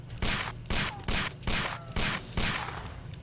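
Gunfire in the video game Sherlock Holmes: The Devil's Daughter rings out as about seven sharp, loud shots in quick, slightly irregular succession, each with a short reverberant tail.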